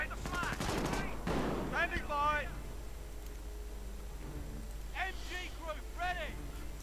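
Machine gun fire in a video game rattles in rapid bursts of sharp reports at the start, mixed with other battle sounds and voices, then thins out as quieter game noises continue.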